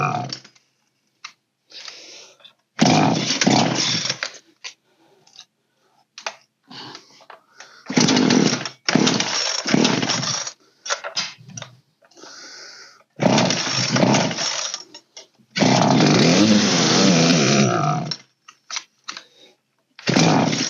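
An old Poulan 3616 chainsaw engine revs up in repeated loud bursts of throttle, sputtering and dropping to near silence between the longer, rising roars.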